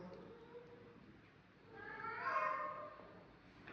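A rescued kitten left by itself in a room cries out once in a drawn-out, faint meow that swells and fades against quiet room tone.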